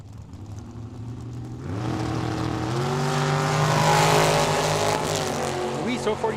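Drag racing cars, including a Monte Carlo, launch down the strip at Tucson Dragway during the Cactus Clash, the engine roar swelling loudly and holding as a commentator talks over it.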